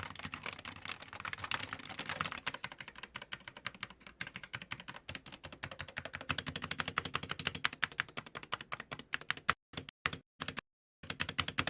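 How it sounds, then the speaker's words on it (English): Fast, steady typing on a mechanical keyboard with concave keycaps, a dense run of crisp key clacks heard up close with a few brief pauses near the end. "so overall, not a bad typing experience."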